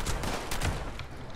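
Quick bursts of gunfire in the post-apocalyptic game Fallout 76, a short volley of loud, close shots rattling in rapid succession.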